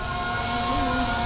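An E99 Pro 2 drone takes off and flies, giving a steady, loud, high whining buzz of its small motors and propellers with no talking.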